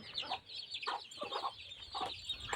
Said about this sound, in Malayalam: ഇവരിപ്പോൾ ഏകദേശം ഒന്നര മാസമെല്ലാം കഴിഞ്ഞ കോഴിക്കുഞ്ഞുങ്ങളാണ്